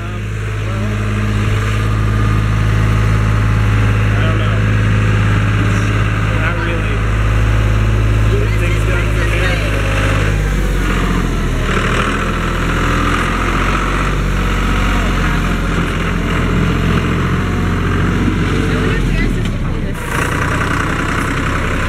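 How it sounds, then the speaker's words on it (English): A loud tractor rumbles past on a track at Radnor Lake, its heavy low engine drone running steadily close by before shifting in pitch as it moves on, with faint voices beneath. "While this loud tractor goes by?"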